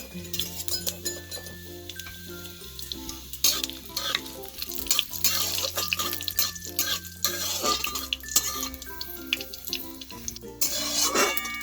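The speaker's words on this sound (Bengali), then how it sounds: "ফোড়নটা খুব ভালোভাবে ভাজা হয়ে গেছে" Three dry red chillies and Bengali five-spice tempering fry in hot oil, a steady crackling sizzle broken by scraping stir strokes, with soft background music running underneath and no talking.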